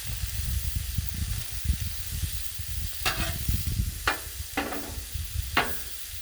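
Frozen french fries sizzle and fry on a Blackstone griddle, a steady close hiss with a few sharp scraping or stirring accents partway through, no voices.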